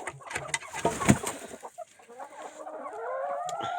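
A rooster and hens in a coop on a frosty day, clucking and murmuring close by in short irregular calls, with a louder squawk early on.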